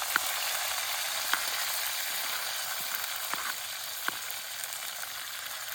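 Onions and chillies fry in a pan in a village kitchen, giving a continuous bright sizzle with a few scattered sharp crackles and clicks.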